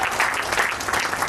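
Audience applause at a poetry book launch event, a thick wash of many hands clapping steadily and fairly loud for the whole short stretch, with no voices over it.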